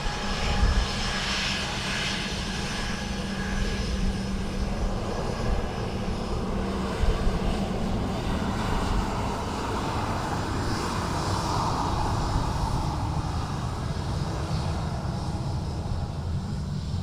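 A Ryanair airliner arriving from Copenhagen roars past at Dublin Airport in a crosswind, its jet engines producing a loud, steady rumble with a broad whoosh that swells and slowly shifts over about seventeen seconds, with no talking.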